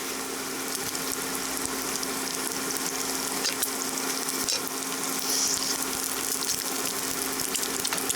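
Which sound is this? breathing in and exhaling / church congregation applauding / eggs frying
eggs frying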